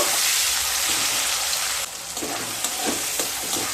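Chopped tomatoes sizzle and fry in oil in a pan over a low to medium flame for an egg curry, a steady close hiss with a few soft stirring scrapes toward the end.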